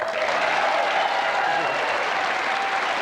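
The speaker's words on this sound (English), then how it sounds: "Big round of applause for Joe Hennessy" Studio crowd applauding a hurling figure on an RTE pre-match show for the 1998 Offaly v Kilkenny game, a steady, dense wash of clapping that holds at even loudness throughout.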